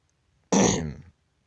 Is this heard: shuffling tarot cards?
no